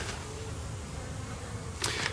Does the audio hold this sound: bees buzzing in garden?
yes